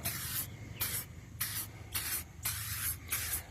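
Five short, crisp hissing bursts of Chemical Guys tire shine sprayed onto a tire, evenly spaced and close up, with a faint background hum between sprays.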